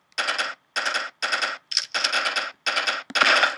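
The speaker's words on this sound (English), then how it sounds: "This shotgun is like way too big for my stick figure guy" A shotgun firing in the video game Stick War, heard as seven sharp, separate blasts in quick succession, loud and alone.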